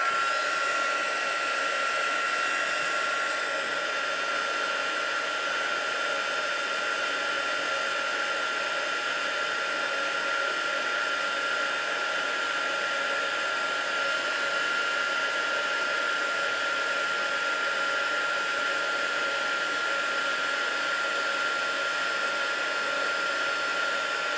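A heat gun runs steadily for heat embossing powder on a thick envelope, giving a continuous loud blowing hiss with an unchanging hum, alone and uninterrupted throughout.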